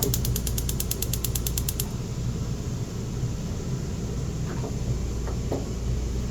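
Rapid, evenly spaced igniter clicks from a stove burner being lit, a quick train of sharp ticks over steady low background hum, stopping after about two seconds; a few faint clicks follow later.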